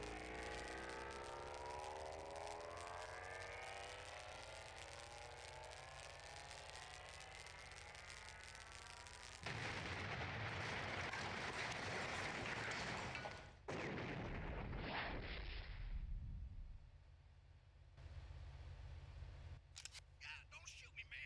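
An explosion in the video game Redline: a loud broadband blast bursts in suddenly partway through and rumbles for several seconds, followed by shorter bangs and crackles, with game sounds and voices around it.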